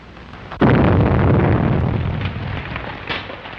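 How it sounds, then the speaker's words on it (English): A 1938 crime film explosion effect: one sudden loud blast erupts and rolls on as a thick, sustained rumbling roar that slowly fades. "Explosion in 93 Madeira Drive."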